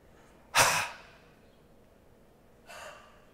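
Two forceful breaths during a dynamic yoga breathing sequence in warrior pose: a loud sharp exhale, then a softer breath about two seconds later, near and alone.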